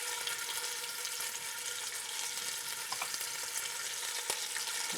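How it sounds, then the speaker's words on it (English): Steady, dense sizzling of hot fat in a pan, a continuous crackling hiss with a few louder pops. "But now we have a nice sizzle"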